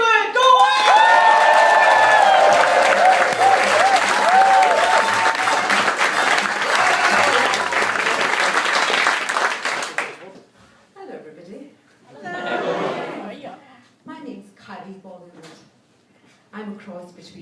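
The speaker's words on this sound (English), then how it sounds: "Applause!" Loud applause, cheering and whoops from a comedy club audience greeting a stand-up comic, dense for about ten seconds and then cutting off abruptly, followed by the comic speaking with scattered laughter.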